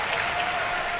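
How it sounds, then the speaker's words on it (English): Spectators at a professional pickleball championship in Penang break into applause and cheers, a dense, steady wash of clapping filling a brief moment. "look at the crowd going wild"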